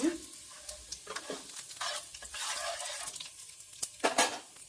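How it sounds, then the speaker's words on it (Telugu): Urad dal frying in peanut oil on a low flame, a soft sizzle broken by repeated scraping stirs of a spoon against the pan, with no talking. "మినప్పప్పు వేసుకొని సిమ్లో పెట్టుకొని ఫ్రై చేసుకోవాలి"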